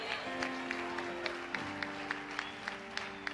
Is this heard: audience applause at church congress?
yes